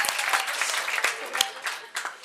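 An audience at a satsang gathering in Vadodara claps, a dense, continuous patter of many hands with a few sharper bursts, fairly close and filling the whole moment.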